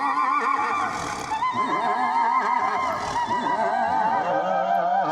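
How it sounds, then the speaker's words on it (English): A synthesized horse neigh from the Zodiac synth plugin, sounding as a loud, dense whinny with rising and falling pitch that runs continuously for about five seconds, alone and with no talking. "You got a horse sound here."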